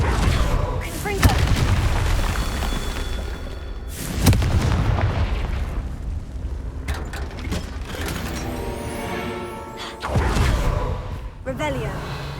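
A Confringo spell explodes in Hogwarts Legacy, with several loud booming blasts spaced across the stretch, each followed by mechanical clatter and rumble amid ongoing game sound.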